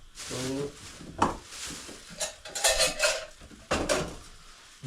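Spoons, plates, pots and a ladle clatter and clink as kitchenware is handled in a forest cabin, a busy run of metallic and ceramic knocks at close range.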